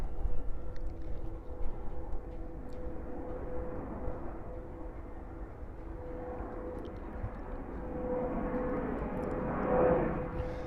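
A jet airplane takes off and climbs at JFK airport, its steady engine roar holding across the clip and swelling louder toward the end, heard from a distance with no talking.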